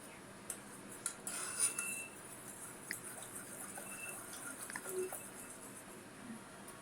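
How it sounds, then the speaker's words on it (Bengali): A spoon's back pressing tomatoes in a pan on a gas stove, giving soft scattered clinks and taps of metal on the pan over a low, steady kitchen background. "টমেটো গুলোকে একটু চামচের পেছন দিকটা দিয়ে চেপে চেপে স্ম্যাশ করে দিচ্ছি"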